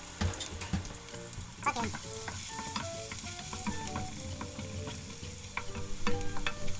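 Onion fries for palabok sauce, crackling and sizzling continuously in hot oil with stirring clatter throughout, while a voice briefly speaks.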